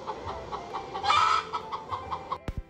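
Hens cluck in a steady run of short, rhythmic calls, one brief louder squawk in the middle, ending with a couple of sharp knocks.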